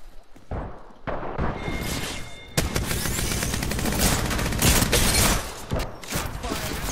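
Rapid video-game gunfire, first as separate sharp shots, then sustained bursts of loud automatic fire that crackle almost continuously, with faint voices underneath.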